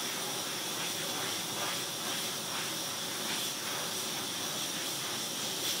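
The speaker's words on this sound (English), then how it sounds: "Sitting here airbrushing, it's nice and quiet." A cheap no-brand airbrush compressor runs while airbrushing, giving a steady, even hiss of air with a faint motor hum beneath, continuous and close, with no talk.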